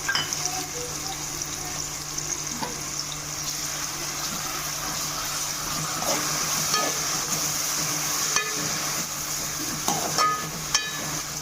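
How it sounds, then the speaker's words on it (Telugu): Chopped carrot, capsicum and cabbage fry in hot oil with a continuous bright hiss and sizzle, while occasional spatula scrapes and taps sound close by. "ఆయిల్ బాగా హీట్ అయిన తర్వాత చిన్నగా కట్ చేసిన క్యారెట్ ముక్కలు అలాగే చిన్నగా కట్ చేసిన క్యాప్సికమ్ ముక్కల్ని వేసుకొని వేయించుకోవాలి"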